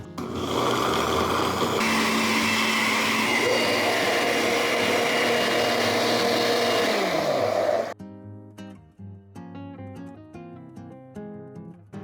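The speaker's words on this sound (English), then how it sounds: "you're just gonna let that blend until it is super smooth and pourable" A blender whirring vegan liquid mozzarella made with lemon juice and salt until smooth and pourable, a loud steady motor drone that shifts pitch partway through, then cuts off abruptly, leaving quieter background music.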